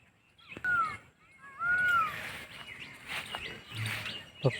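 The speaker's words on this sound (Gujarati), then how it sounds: "પક્ષીઓ બોલે છે।" Birds call in village fields under a dark, overcast sky just after rain: a few clear, sweeping chirps stand out near the start, then softer calls mix with rustling background noise.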